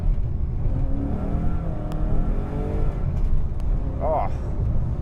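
A Mercedes CL65 AMG engine pulls hard under acceleration, a steady deep drone running the whole time beneath someone talking over it.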